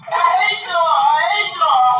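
A family member screams and wails loudly in a courtroom at a sentencing, a sustained high, anguished cry lasting a couple of seconds with brief breaks.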